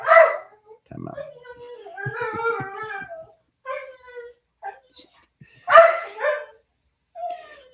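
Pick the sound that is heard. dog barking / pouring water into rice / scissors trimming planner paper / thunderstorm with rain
dog barking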